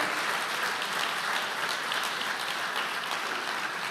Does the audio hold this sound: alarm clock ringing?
no